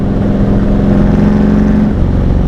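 A motorcycle engine drones loud and close, its exhaust note bouncing off a nearby wall with a harsh, echoing throb that holds steady then dips slightly.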